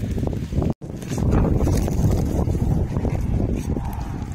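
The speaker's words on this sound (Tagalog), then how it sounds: "Mahangin." Steady wind buffeting the microphone, a continuous low rumbling roar with one brief dropout near the start.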